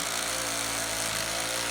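A power drill spins a small dynamo generator to charge it, a steady close motor whine and hum running without a break and holding the same level throughout.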